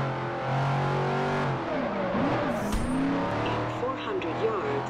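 A barn-find car's engine in the Forza Horizon racing game drones and revs with tire noise, loud and continuous while someone talks over it.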